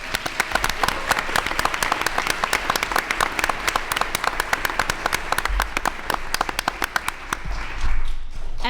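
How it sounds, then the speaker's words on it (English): A school board meeting room fills with loud, sustained applause for a school team, dense clapping from a crowd that holds steady for over eight seconds before easing off near the end. "So I would like to applaud their effort this year."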